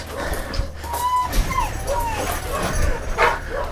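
An Anatolian shepherd dog puppy yips and whimpers close by in short high cries over rustling outdoor noise, with people talking at times.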